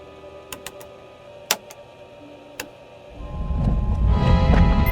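Rain and thunder from a storm in a Twilight Zone radio drama aboard an airliner, with a few sharp ticks early on before a loud, steady roar of rain swells and holds to the end.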